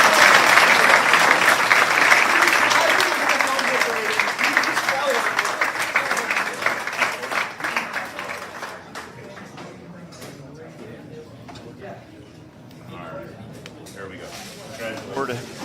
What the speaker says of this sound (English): So how about a nice round of applause, our IRMC Player of the Week, Braden Dunn